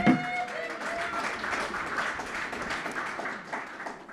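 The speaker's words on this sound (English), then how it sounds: "put another round of applause out there for Tiffany Huey" An audience at a Central Oregon PubTalk claps for a speaker in a steady round of applause, with a brief tonal sound at the start and the clapping tapering slightly near the end.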